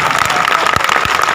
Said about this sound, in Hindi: आपकी तरफ से जोरदार तालियों से बहुत बहुत